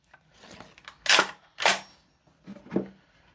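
Two loud sharp shots ring out close by from a propane-powered gas blowback SCAR L MK2 airsoft rifle firing 0.3 g BBs, each with a metallic spring twang, followed by a couple of softer mechanical clicks.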